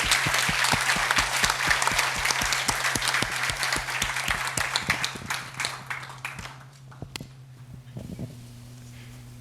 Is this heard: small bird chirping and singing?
no